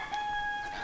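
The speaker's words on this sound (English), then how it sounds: "I have a chicken" A backyard chicken crows or calls near a flower pot where a hen has chosen to lay eggs: one short, clear, strained cry with steady tonal overtones, close by and alone.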